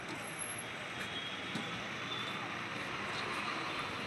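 A KSRTC bus on the Hubballi to Udupi route, run by the Hubballi division, pulls into Honnavara bus stand amid a steady, loud engine rumble and broad road noise that fills the whole stretch without pause.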